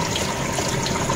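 Water rushes steadily through a DIY rotating flow turbine, a dense, even gushing hiss that stays loud and close with no pauses.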